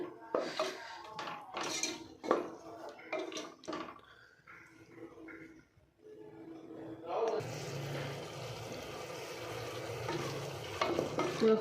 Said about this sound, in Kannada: ಒಂದು ನಿಮಿಷ ಚೆನ್ನಾಗಿ ಫ್ರೈ ಮಾಡ್ಕೋಬೇಕು. ಕರ್ಡ್ ಹಾಕ್ಕೊಂಡು ಲೋ ಫ್ಲೇಮಲ್ಲಿ.